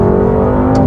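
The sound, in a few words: BMW M850i V8 engine during a downshift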